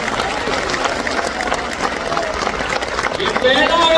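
Applause from an audience in a university auditorium at a community address runs as a continuous patter of many hands clapping, moderately loud and steady, with crowd voices mixed in and rising toward the end.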